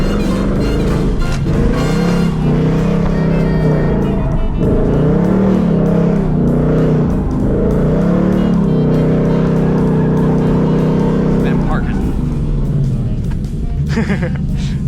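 A drift car fitted with a new hydraulic handbrake runs with a loud, close engine drone that rises and falls in revs throughout, with a brief tire squeal and speech mixed in.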